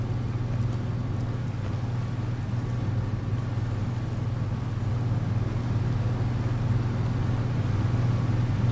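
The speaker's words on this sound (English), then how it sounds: "diesel pump engines finish and shut down, but they don't just fade out softly" A diesel pump engine in Fallout 4 drones loudly and steadily, a low constant hum with a rough mechanical texture that carries on without a break.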